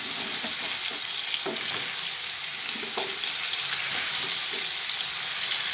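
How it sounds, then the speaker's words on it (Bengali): Potatoes and pointed gourd frying together in hot oil give a loud, steady sizzle throughout, broken by a few soft scrapes of stirring, with no voices. "এরপরে আলু আর পটল একসঙ্গে ভেজে নিচ্ছি"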